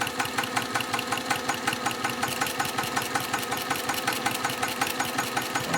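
Sewing machine stitching a sampler quilt at a quarter-inch seam, a steady fast mechanical chatter with regular rhythmic ticking, close and continuous with no talk.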